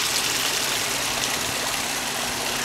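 Water pours steadily over a garden waterfall whose rocks are coated in algae, a loud, continuous broadband rush with no pauses or voices.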